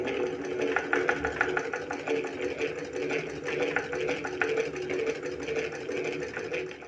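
A domestic silai sewing machine, just refitted with needle plate, feed dog and presser foot, stitches fabric in a steady, rapid, close mechanical chatter that runs without a break.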